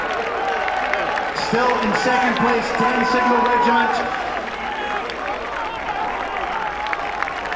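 Grandstand crowd at the Braemar Gathering race applauding and cheering as a steady, broad wash throughout, with an announcer talking over it.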